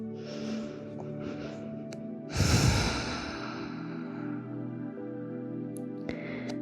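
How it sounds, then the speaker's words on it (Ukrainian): Someone resting in child's pose during a yoga session lets out one deep, loud exhale, like a heavy sigh, close to the microphone over soft background music. "Відновлюємо дихання."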